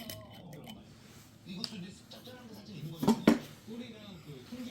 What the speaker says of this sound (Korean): 이제 술병을 한번 오픈을 해 보겠습니다